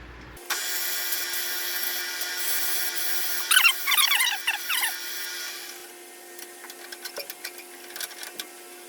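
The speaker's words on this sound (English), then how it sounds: "Maybe I'll sand it a little bit with some 80 grit." Wood is sanded with 80-grit sandpaper while building a sturdy shop stool, giving a steady high whirring hiss that starts abruptly. Squeaky scraping bursts come through the middle, then it fades to lighter, scattered ticking strokes.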